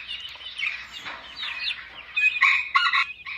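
Chickens, guinea fowl and game fowl cluck and squawk close by, with a rooster's crow breaking through among the busy poultry chatter.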